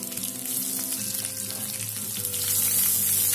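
Chana dal, tamarind and chilli fry in a pan of oil for red hot coconut chutney, giving a close, continuous sizzle that swells louder near the end, with no voices.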